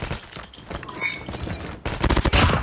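A sentry gun fires in the Call of Duty Mobile video game on the Shipment map, a steady rattle that turns into a louder rapid burst of close shots near the end.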